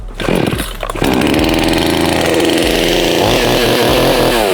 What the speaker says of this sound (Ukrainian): І все, бензопила завелася та готова працювати.